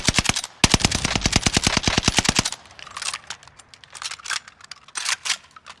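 An EM2 rifle in Call of Duty: Warzone fires a rapid automatic burst of crisp, evenly spaced shots for about two seconds, followed by scattered short bursts and single shots at lower volume.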